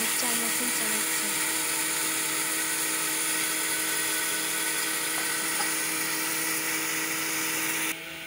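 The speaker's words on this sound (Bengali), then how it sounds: "মা এখানে মিক্সচার মেশিন চালাচ্ছে" Mixer grinder running continuously in a home kitchen, a loud, steady high-pitched electric whine with no change in pitch, cutting off abruptly near the end.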